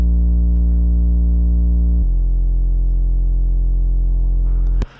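Distorted, compressed sine-like sub bass synth sits between a sine and a triangle wave, sustaining two long low notes with a step down partway, loud and steady before cutting off abruptly.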